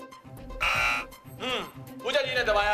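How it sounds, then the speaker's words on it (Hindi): A contestant presses the buzzer on a Hindi quiz-style cooking game show, sounding a loud, bright buzz for about half a second, followed by further electronic tones and a host talking. "दबाया है बजर"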